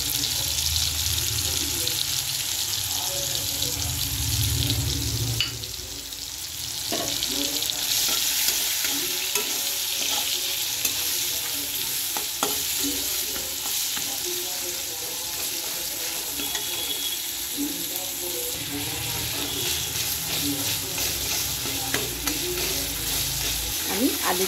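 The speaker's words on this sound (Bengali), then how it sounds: "দেখুন বন্ধুরা, মশলাটা কষানো হয়েই গেছে।" Spices being sautéed and stirred in a pan for a Bengali muri ghonto dish, a steady sizzle with scraping stir strokes running throughout, close and fairly loud, with no talking.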